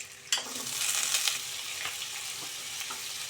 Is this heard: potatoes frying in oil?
yes